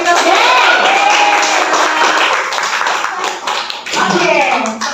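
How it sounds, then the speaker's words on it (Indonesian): An audience at a school teacher-training gathering claps in a quick burst, loud and close, with speech running over it and a second short patter near the end. "tepuk tangan buat kita semua."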